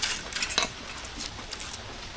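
Onion chopped with a knife in a village kitchen, giving a quick run of faint, crisp taps on a board over about two seconds, with no talk.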